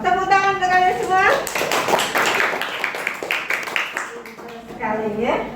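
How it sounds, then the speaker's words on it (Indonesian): A classroom of pupils claps hands together at the end of a lesson, a burst of scattered clapping framed by a teacher's voice talking before and after. "Tepuk tangan untuk kalian semua."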